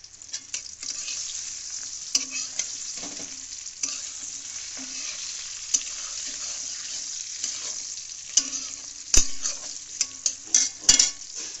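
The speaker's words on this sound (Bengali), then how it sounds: "বেগুনগুলোকে আগে ভেজে নেব" Eggplant pieces frying in a pan, a steady moderate sizzle broken by repeated spatula scrapes and clinks against the metal, growing busier toward the end.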